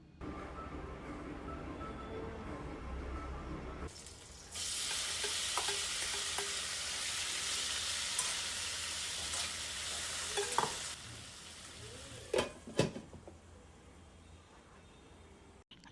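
Paneer frying in about two tablespoons of oil in a kadai: a bright, steady sizzle that starts abruptly around four seconds, holds for roughly seven seconds, then cuts off, followed by a few clanks and quiet.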